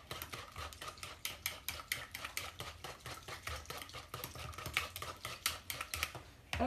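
Quiche batter with flour stirred in a bowl, heard as a quick, steady run of light spoon taps and scrapes against the bowl, close and fairly quiet, with no talking.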